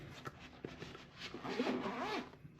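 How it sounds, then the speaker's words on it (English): A zipper on a hard carrying case for a GOOLOO GP4000 portable jump starter runs in short rasping pulls, then one longer continuous zip, close and clear with no voices. "That is zippered closed."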